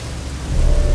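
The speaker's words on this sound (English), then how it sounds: "The first thing you'll notice is that it's raining." Rain hisses steadily with a deep rumble of thunder swelling near the end in the video game Company of Heroes: Opposing Fronts, loud and close with no voices.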